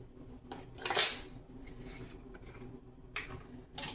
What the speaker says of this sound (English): I'm gonna mix 1/3 of a cup of sugar